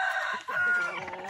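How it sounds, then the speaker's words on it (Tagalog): Chickens cluck and squawk briefly up close, a short burst of several overlapping bird calls. "So yan po ang mga manok natin"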